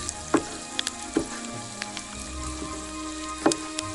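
Garlic cloves fry in a hot pan with a steady soft sizzle, broken by scattered sharp pops and crackles and a few faint clinks.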